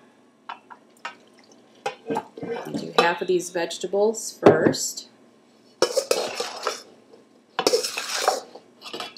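Drained noodles and vegetable goulash with canned tomatoes are poured together and stirred in a pot, giving clinking utensils and wet sloshing in several bursts while a person talks between them.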